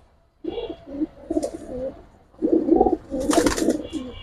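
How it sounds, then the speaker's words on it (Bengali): Giribaz pigeons at a pigeon market give repeated throaty coos in several bursts, close and fairly loud, with a brief hiss-like flutter near the end. "সুন্দর কবুতর ভাই"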